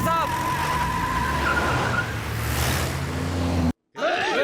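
A car in a Hindi-dubbed film scene revs and pulls away with a loud engine roar and tire noise, accompanied by tonal background music and voices, then cuts abruptly to a short musical sting.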